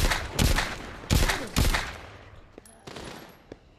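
Gunfire in The Walking Dead video game: several sharp, loud shots in quick bursts early on, then fading to a few fainter scattered reports, with no talking.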